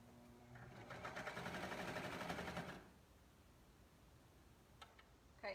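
A sewing machine stitches clear elastic onto a dress in one short, steady run of rapid whirring needle strokes lasting about two seconds, then stops, leaving quiet room noise with a few faint clicks.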